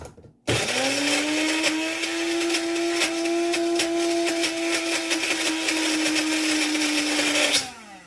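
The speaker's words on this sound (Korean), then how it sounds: "믹서기에 갈아서" A blender grinding potato starts abruptly and runs at a steady high-pitched whir for about seven seconds, with rattling and clattering from chunks inside, then winds down.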